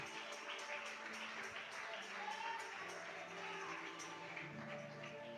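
A church congregation applauds together in steady, faint clapping that carries on throughout, with a voice speaking quietly underneath.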